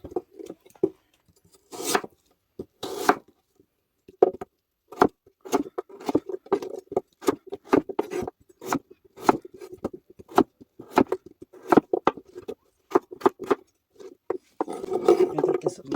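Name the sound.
slicing radish with a knife for white kimchi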